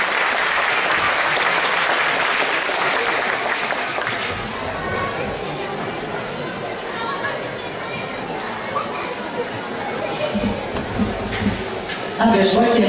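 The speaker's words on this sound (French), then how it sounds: "Oui, vous pouvez les applaudir." An audience at a gala applauds in a loud, sustained burst of clapping that fills the hall, with crowd chatter and cheering mixed in and a brief louder swell at the end.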